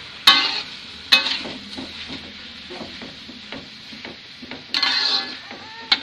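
A splash of water hits sautéed spice paste in a hot pan, setting off a sharp hiss that bursts up twice, near and fairly loud, amid a low sizzle and intermittent stirring scrapes and clinks.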